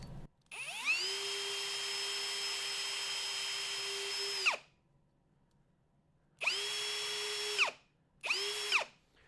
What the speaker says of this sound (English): It'll put a hole right in the center of the dowel.